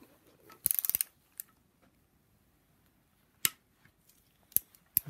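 A torque wrench clicks sharply as bolts on a BMW N54 engine are tightened during a rebuild, with a quick cluster of crisp clicks, then a few isolated clicks later, close and otherwise quiet.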